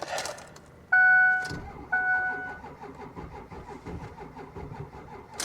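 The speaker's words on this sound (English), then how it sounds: "It fires up and then it dies." A diesel Ford F250 cranks with a sharp whine, catches briefly, then stumbles and dies into a rough, uneven clatter; close and fairly loud.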